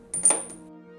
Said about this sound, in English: Remove the caliper bolts.